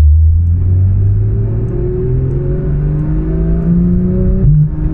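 A 2016 Porsche 911 GT3 RS engine hums loudly and steadily while driving. Its pitch climbs gradually, then drops with a quick blip near the end, heard from inside the cabin.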